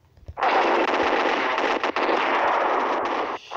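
Sustained automatic gunfire from the mobile shooter Special Ops, a dense continuous burst that runs loud and close for about three seconds with a brief dip midway before cutting off.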